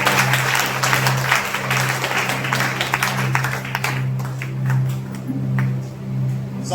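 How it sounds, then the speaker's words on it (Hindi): Congregation at a Hindi-language church worship service clapping in praise, a steady broadband patter of many hands running throughout over a low sustained musical drone. "ताली बजा दो से तारीफ करो।"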